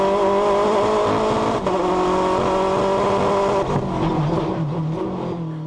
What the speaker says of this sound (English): the engine started misfiring